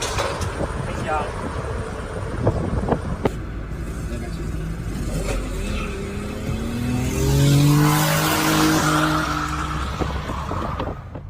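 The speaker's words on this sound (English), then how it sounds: "He detaches the car, then drives off of the back of the tow truck." A car drives off the back of a tow truck, its engine revving up and rising in pitch as it accelerates away, with faint tire noise beneath steady background hiss.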